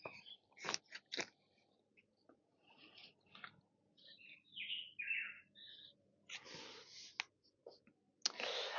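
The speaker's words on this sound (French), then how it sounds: "vous laisser écouter ce oiseau en attendant" Small songbird chirping and trilling in short, varied phrases at moderate distance, separated by quiet gaps and interrupted by brief clicks and rustles close to the microphone, with no talk.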